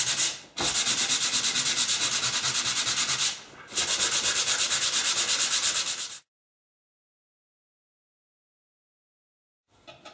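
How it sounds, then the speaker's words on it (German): Two long bursts of rhythmic abrasive rubbing from sanding drilled holes smooth in an N-scale model railway module frame, close and loud, separated by a short pause, then silence with a brief scrape at the end. "Nach dem Bohren die Löcher glatt schleifen"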